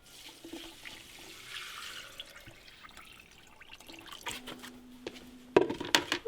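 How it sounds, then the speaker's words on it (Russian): Water runs and splashes steadily into a container while preparing a KAS-81 treatment for bees, a continuous pour with a louder, brighter gush near the end. "теперь заливаем это все дело водой"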